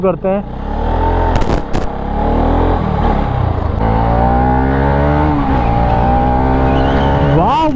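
A six-year-old Bajaj Pulsar RS200 motorcycle engine roars loud and close, revving up and down as the ride begins, with someone talking over it.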